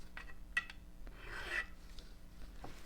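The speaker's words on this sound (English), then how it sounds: "So what I'm doing is I'm taking the file along the edge of the fret," A metal file rasps along the edge and top of a guitar fret in a quiet room, giving a few short scraping strokes with a sharp tap and a longer rubbing pass in between.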